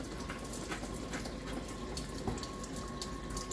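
Tap water running into a kitchen sink during handwashing with soap, a steady close splashing stream with small irregular splatters throughout.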